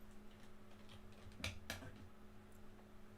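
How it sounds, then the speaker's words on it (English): Keys clatter on a Commodore 64 keyboard, two sharp close clicks about a quarter second apart over a faint steady electrical hum, with quiet background sound throughout. "it seems like the keyboard seems to be working again"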